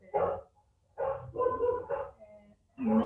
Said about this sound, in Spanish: lo que escuchan son perros, hay un ladrido generalizado, son perros vecinos